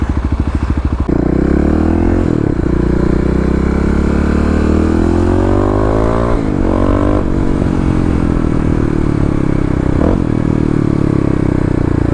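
A Kawasaki KLR motorcycle rides close behind, its engine a loud, steady drone with rising and falling pitch as it accelerates and shifts, heard without talk.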